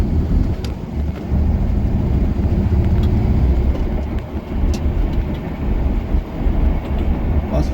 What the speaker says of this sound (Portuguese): E vamos dar uma andada no carro. Só para escutar aquele barulhinho maravilhoso.